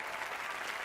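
Steady, dense applause from a TV comedy show studio audience, fairly loud and continuous throughout the short stretch, a uniform wash of many hands clapping with no individual claps standing out.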